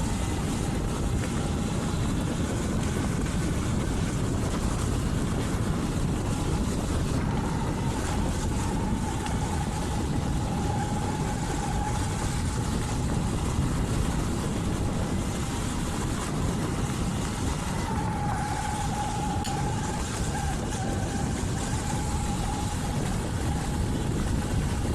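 An electric SurRon Light Bee L1E dirt bike with a 21-inch front wheel and standard front suspension rides a small rocky road, giving a steady motor whine under loud, continuous wind rush for the whole stretch.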